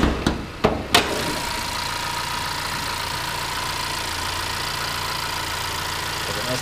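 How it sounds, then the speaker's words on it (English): A 2015 Honda Accord engine idles steadily under the open hood, a smooth, continuous mid-to-low hum with a faint whine, preceded by a few sharp clicks at the start. "Honda engine, and smooth, strong, plenty of power, and good on gas"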